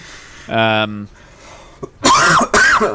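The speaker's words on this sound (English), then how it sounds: "Sorry, Zazu made me cough." A throat-clearing grunt, then two harsh, loud coughs in quick succession, close by.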